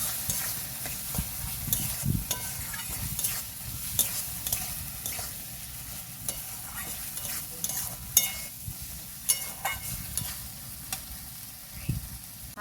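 Salt and turmeric being stirred into a hot pan for a village-style mourala fish teljhal, a constant low sizzle broken by repeated scraping spoon strokes, close and steady with no talk.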